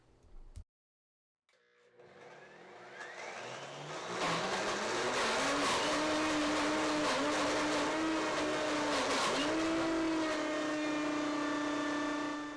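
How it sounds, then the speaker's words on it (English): A Blendtec blender struggles with a thick frozen smoothie, its motor starting after a brief pause, climbing in pitch and then holding a loud, steady whine with wavering tone as the jar contents resist blending. "let me show you as I attempt to make a smoothie in the Blendtec."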